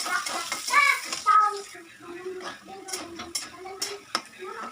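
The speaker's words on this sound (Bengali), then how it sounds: "এখন যখন হলুদ লবণ এগুলো দিয়ে একটু ভেজে নিব সোয়াবিন।" Soybean chunks fry with turmeric and salt in a pan while a spatula stirs them, making scraping strokes and sharp clinks over a soft sizzle, with a voice heard briefly.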